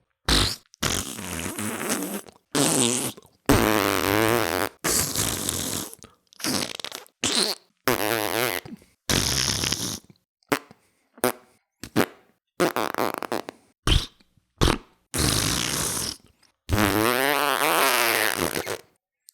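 A voice imitates fart sounds by mouth, a long run of loud, buzzy, sputtering blasts of varying length separated by short silences, recorded close to the microphone.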